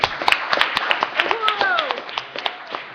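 Scattered, uneven clapping from a small audience at a community forum on prisons follows a presentation, with individual claps popping out sharply while people talk over it.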